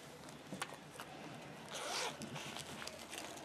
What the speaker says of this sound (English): So we're going to start with the zipper pouch.